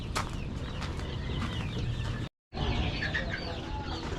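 Rhode Island Red chicks clucking and peeping continuously close by, a busy overlapping chatter with no one speaking.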